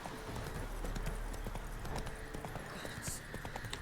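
Roach, a horse in The Witcher 3, clip-clops with steady hoof beats beneath someone talking and ambient game sound, with a faint whinny-like tone near the end.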